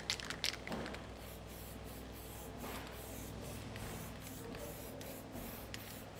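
Aerosol can spraying dye penetrant onto metal for crack detection: soft, hissing spray bursts in short repeated pulses, close and quiet, with no talk.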